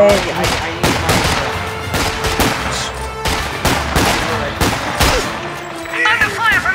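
Dense, continuous gunfire from a World War II-style online video game battle, with rapid bursts of shots and heavy impacts overlapping in a loud, chaotic barrage for several seconds.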